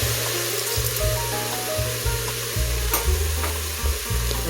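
Sliced mushrooms frying for a gorgonzola risotto hiss loudly as a splash of white wine hits the hot pan, a steady close sizzle with light stirring throughout.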